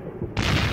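A knock at the palace doors in an animated fairy-tale cartoon, heard as a short, loud, boomy thud or two, followed by a broad burst of noise.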